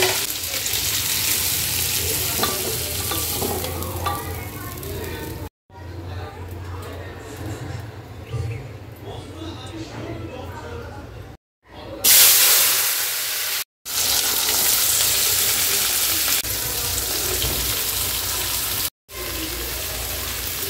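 Onions sizzle and crackle as they are stirred in a frying pan, a steady broadband hiss with scraping stirs, broken by a few brief cuts; a voice talks faintly over parts of it.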